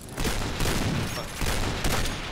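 Sniper rifle fire in the Point Blank shooter game, a dense run of loud, close gunshots packed together with a continuous crackling wash, no talking over it.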